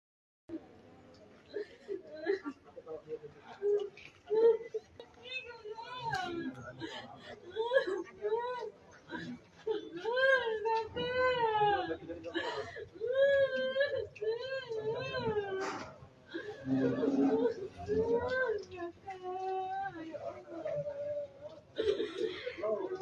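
Grieving family members crying mournfully outside an autopsy room, wailing, sobbing voices rising and falling in long uneven cries, close and loud, with several people overlapping throughout.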